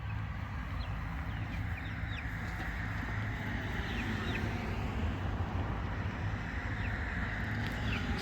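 Chickens cluck faintly near an electric poultry fence outdoors, a few scattered short calls over a steady low wind-like rumble.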